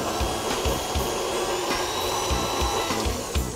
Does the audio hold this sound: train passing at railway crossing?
no